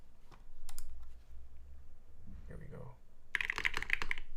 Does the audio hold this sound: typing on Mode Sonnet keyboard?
yes